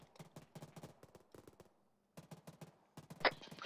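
Bursts of video game gunfire in an Arma 3 military simulation, fairly quiet with short clusters of rapid shots separated by a brief pause, ending with louder sharp cracks.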